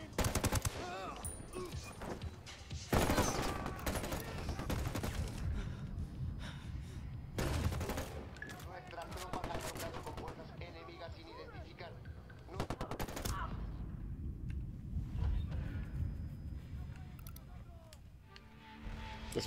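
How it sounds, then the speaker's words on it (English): Frequent automatic gunfire in Ghost Recon Wildlands crackles at a low level in irregular bursts amid a busy firefight, with a voice talking over parts of it. "This is a party and you got dudes shooting everywhere."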